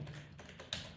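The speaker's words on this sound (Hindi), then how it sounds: "यहाँ पे मैंने टाइप किया" Keys tapped on a computer keyboard, a few soft quiet clicks spread unevenly with one sharper stroke near the end, close and without any voices.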